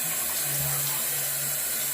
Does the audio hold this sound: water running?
yes